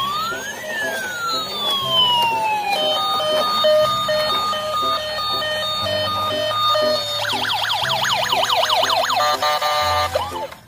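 A toy ambulance siren wails in electronic sweeps and two-tone patterns, loud and close, switching to a faster warble near the end.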